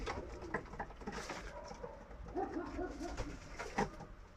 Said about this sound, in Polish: O, takie ptaszki.